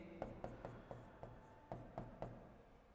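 Chalk or marker strokes on a board while an equation for an ideal gas is written, a series of short sharp taps and scrapes in irregular rhythm, close and fairly quiet, with no talking.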